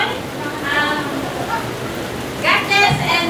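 Steady rain falling outside a wedding venue, a constant hiss running beneath voices and children's chatter nearby throughout.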